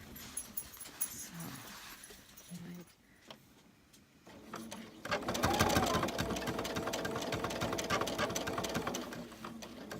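Sewing machine stitching a pillow form, a quiet start with brief sounds and a pause, then a loud steady motor hum with rapid needle rattle running continuously for the second half.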